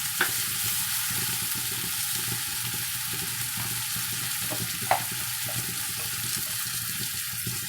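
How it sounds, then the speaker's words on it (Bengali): Sour yogurt sizzles loudly in a hot pan, a dense, steady hiss with a few faint clinks of a utensil stirring, close and without speech. "দেখো আমি টক দই দিয়ে দিচ্ছি।"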